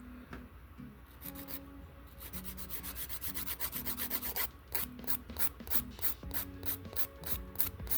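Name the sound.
filing off nail gel enhancement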